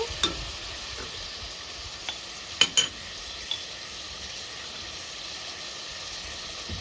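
Tomato pieces fry in a pan for mutton drumstick curry with a soft, even hiss of sizzling oil and a few light clicks from stirring, quiet and close, without any speech.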